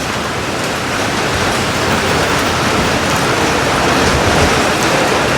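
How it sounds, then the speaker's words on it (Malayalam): Steady, loud morning rain pours without a break, a dense even hiss that swells slightly toward the end, with no voices over it. "പതിവില്ലാതെ രാവിലെ ഒരു മഴ."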